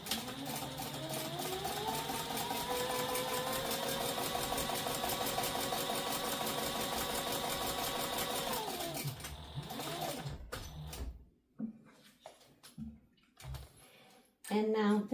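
A sewing machine tacks down a satchel seam in one long, continuous whirring run of about nine seconds, close and steady. It winds down into handling clicks and rustles, and a voice starts speaking toward the end.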